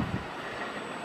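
A freight train loaded with steel coil containers rolls close by a station as a loud, dense, continuous rumble of wheels and wagons, with a few heavier thumps at the start.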